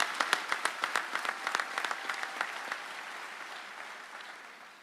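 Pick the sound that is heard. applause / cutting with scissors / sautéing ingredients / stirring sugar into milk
applause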